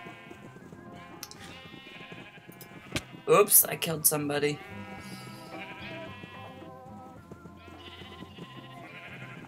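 Sheep in a Minecraft mini game give a loud burst of bleats in the middle, with a person talking over game sounds before and after.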